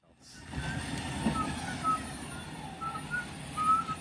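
Short whistle-like chirps from autonomous delivery robots come at intervals over a low mechanical rumble and street noise, the beeps light and fairly close.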